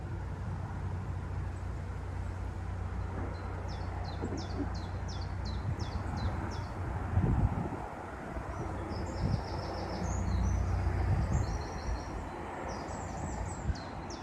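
Chaffinches sing repeated bright, trilling phrases at a moderate distance beside a canal in spring, over a steady low rumble of background noise and passing traffic.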